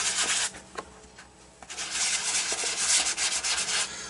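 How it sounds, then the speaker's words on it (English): Abrasive rubbing of 120-grit wet sandpaper on a flat metal surface, in rhythmic scraping strokes that pause briefly, then resume steadily. "I've selected 120 grit dry wet sandpaper."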